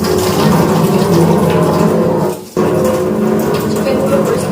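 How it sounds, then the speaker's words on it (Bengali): Garlic cloves are rinsed under running water in a home kitchen, a loud steady stream broken by one brief pause, with talk in Bengali over it. "এবার রসুনগুলো গ্রেড করে নেব ধুয়ে নিচ্ছি"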